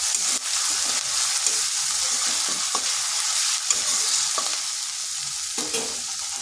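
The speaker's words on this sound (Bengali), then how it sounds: "পেঁয়াজটা হালকা একটু ভেজে নিচ্ছি।" Ground onion paste fries lightly in a pan for prawn malai curry, giving a constant close sizzling hiss punctuated by repeated soft thuds and scrapes of a spoon stirring, steady in loudness throughout.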